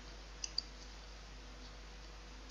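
Mouse clicks on a confirm button in a cryptocurrency wallet: a couple of faint, crisp clicks close together early on, then a louder click at the end over a quiet hum.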